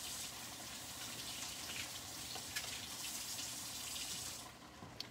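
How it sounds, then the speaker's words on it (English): Tap water runs steadily in a kitchen sink while something is rinsed off during cooking, a soft continuous hiss and splash that stops near the end. "Let me just rinse this off real quick"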